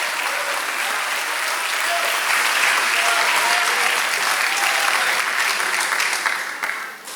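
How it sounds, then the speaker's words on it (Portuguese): A Pentecostal congregation claps hands in praise during a Portuguese-language church service, a loud dense roar of clapping, steady throughout with a few faint voices, fading slightly in the last second. "Louvem ao Senhor, batendo suas palmas e glorificando ao Senhor"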